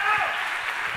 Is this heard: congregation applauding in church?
yes